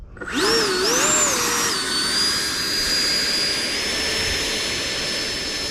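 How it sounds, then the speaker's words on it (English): FMS Rafale 80mm RC jet's electric ducted fan spools up with a rising whine, wavers, then settles into a steady loud high-pitched roar, heard close on a cloudy, breezy day without talk. "we're gonna fly the Rafale 80mm"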